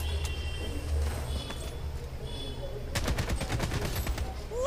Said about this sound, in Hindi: यहाँ से कोई मुझे शूट कर रहा है, मुझे पता नहीं चल रहा।